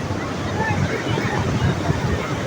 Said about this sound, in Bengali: সাগর আজকে উতাল, সাগরের ঢেউ দেখেন